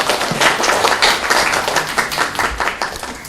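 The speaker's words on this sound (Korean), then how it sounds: "박수 부탁드리겠습니다." Audience applause at a Nexon UI design presentation session, a dense, loud burst of many hands clapping steadily for a few seconds without speech.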